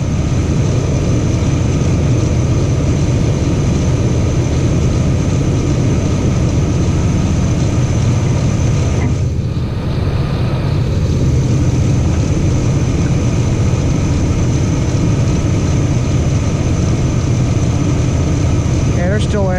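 A 2004 Chevy Blazer with a 4.3 V6 idles steadily and loud at close range, its low engine drone continuous throughout with a few light revs, while a voice speaks briefly over it.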